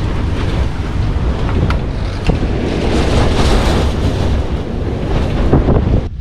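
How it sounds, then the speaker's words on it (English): Strong hurricane wind from a Mediterranean storm roars steadily against the side of a building, a loud, continuous broadband rush with gusting swells and occasional rattles throughout. "the wind's blowing from this side of the building"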